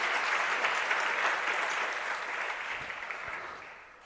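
An audience claps steadily through a religious discourse, a dense wash of many hands that gradually thins and softens toward the end.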